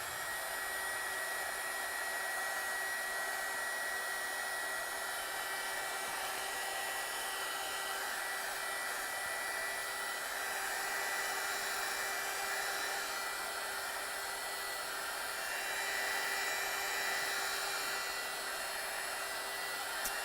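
A hair dryer blows steadily and close for about twenty seconds, a constant whooshing whine drying watercolour paint on a craft project, with no talking.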